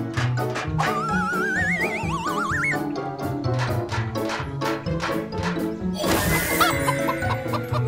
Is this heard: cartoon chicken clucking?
yes